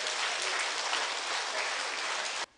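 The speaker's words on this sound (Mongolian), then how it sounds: "So give her a hand as she come up" An audience at a church conference breaks into sustained, dense applause that fills the space evenly for a couple of seconds, welcoming a speaker to the stage, then cuts off abruptly.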